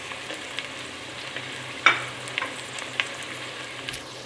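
Ginger, garlic, tomato and green chilli frying in a pan produce a quiet, low sizzle broken by a few sharp clacks of a stirring utensil, with no voices.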